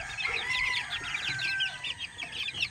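A flock of sweet hatch chicks in a coop peep and cheep without pause, a dense, bright chatter of overlapping high chirps that holds steady throughout, with no talking.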